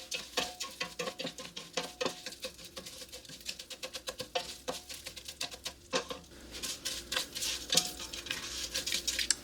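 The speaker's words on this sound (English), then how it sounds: "We're still toasting rice here." Rice toasts and is stirred in a pan in a sun oven, making a run of quick, dry scraping and pattering strokes close by, with grains rattling against the metal in an uneven rhythm.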